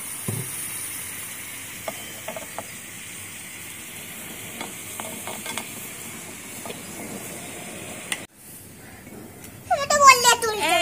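A hot kadai in a miniature kitchen is rinsed with water after making egg chicken chow mein, giving a low, steady sizzle that swells into a louder, sputtering hiss in the final seconds.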